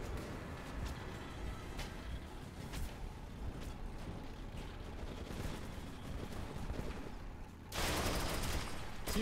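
Rapid gunfire in Metro 2033 Redux, a dense continuous rattle of shots with mechanical clanks throughout, swelling into a louder, harsher burst near the end.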